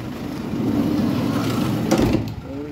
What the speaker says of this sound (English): Open the side door.